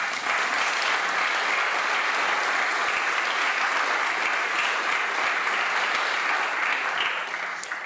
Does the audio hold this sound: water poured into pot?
no